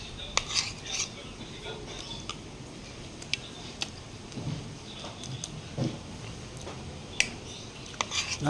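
Cutlery scrapes and clinks against a plate while sardines are eaten, with sharp irregular taps and scrapes close by over a quiet background, alongside soft chewing and shuffling.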